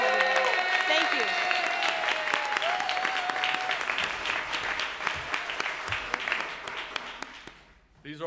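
Sustained applause fills a city council meeting, dense clapping from a crowd that holds steady for several seconds before thinning out and fading near the end, with scattered voices and cheers mixed in.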